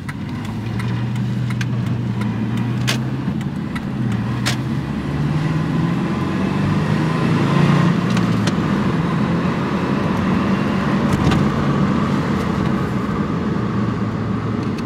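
A small car nicknamed a pocket rocket being driven, its mid-pitched engine droning steadily from inside the cabin with road rumble and a few faint clicks, no talking.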